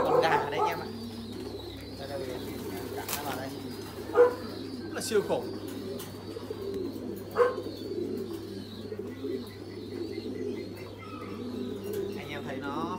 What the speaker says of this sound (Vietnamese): những cặp bộ câu gà bên này nữa